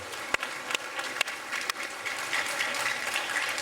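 An audience applauds after a performance by the New York Young Arts Foundation Chamber at an America 250 community celebration. Dense, steady clapping builds, with a few sharp, loud claps standing out early.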